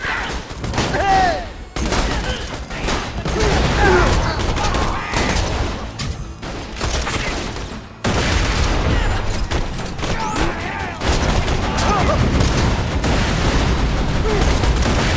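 Sustained gunfire from Borderlands 2 during a clan war mission, dense bursts and booming shots rolling almost continuously, loud and close, with shouted voices mixed in.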